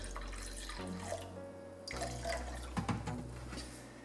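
Water runs and splashes into a container holding distilled vinegar for a window-cleaning mix, a steady stream with a short pause midway, fairly quiet and without voices.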